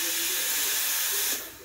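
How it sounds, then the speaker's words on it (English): A loud, steady burst of steam hisses from a Breville Oracle espresso machine's steam wand as it is purged of condensed water, then drops off sharply near the end. "steaming your milk to purge it, so get out all that steam"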